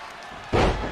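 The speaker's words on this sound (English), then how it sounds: "And now bouncing Hayes' head off the canvas." A wrestler's head is slammed onto the ring canvas in a single heavy thud about halfway through, close and loud over a faint crowd murmur.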